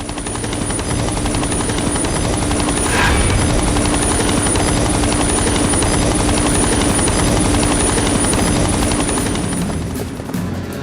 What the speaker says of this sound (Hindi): हेलीकॉप्टर की आवाज से कहीं वो तुम्हारी बहन को नुकसान न पहुंचाए